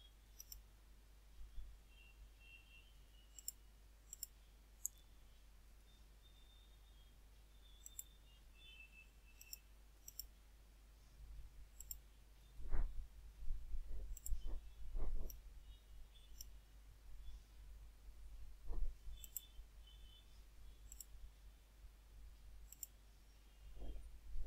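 Computer mouse clicks sound faintly and sparsely in a quiet room: scattered single clicks, then a cluster of sharper clicks midway, and a few more toward the end, with a low steady hum underneath.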